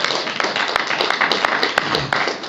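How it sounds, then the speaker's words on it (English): Audience at an AA meeting clapping together, a steady dense patter of many hands for a couple of seconds, fairly close and loud, with a few sharper individual claps standing out. "Well, give another clap, right?"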